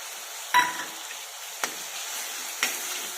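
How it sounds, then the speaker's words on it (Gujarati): Chopped onion and garlic sauté in a pan for Mumbai-style pav bhaji, a faint steady sizzle broken by three brief spatula clinks and stirs, close by and with no talking. "લસણ ને ડુંગળીને બરાબર સાંતળવા દઈશું આપણે।"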